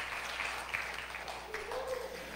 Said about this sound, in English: Can we give them a clap praise?